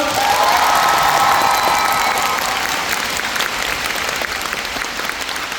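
Concert audience at a live stage show in Busan breaks into loud, full applause with some cheering and shouts, a thick wash of clapping that swells early and stays strong for several seconds.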